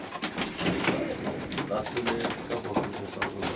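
Racing pigeons coo and flutter close by in a Romanian breeder's loft, with dense bird noise throughout and people talking over it.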